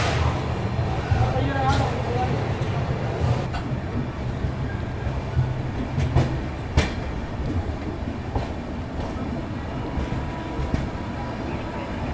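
Tamil Nadu Express pulling out of Agra Cantt station at night: a steady rolling rumble of train wheels with faint clicks and clanks over the rails, heard from on board, with someone talking through it.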